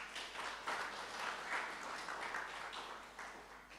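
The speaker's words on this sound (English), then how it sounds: "You deserve a round of applause." At a foundation event, an audience gives a round of applause, a soft, even patter of many hands clapping heard from a distance with no talking.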